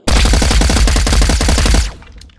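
A long, fast full-auto burst from a rifle with a cross-bolt fire selector in the VR shooting game H3VR, loud and close, a rapid rattle of shots that stops abruptly and leaves a short fading tail.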